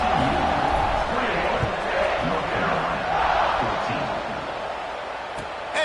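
A college football stadium crowd roars steadily around kickoff, a dense, far-reaching wash of cheering voices with a play-by-play commentator talking over it.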